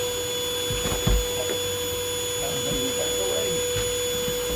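Vacuum cleaner running steadily in a bedroom, set up to suck yellow jackets off the ceiling in Marlboro; a continuous whine with a mains-like hum, a brief bump or knock partway through, no talking.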